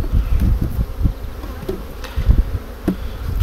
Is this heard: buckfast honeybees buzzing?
yes